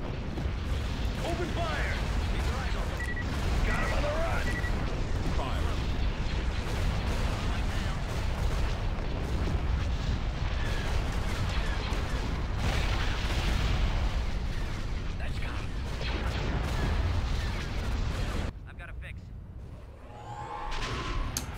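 Spaceships in the AOTR Alpha strategy game fire artillery during a space battle, producing continuous rumbling booms and bursts that drop away near the end, with a player's voice talking over the barrage.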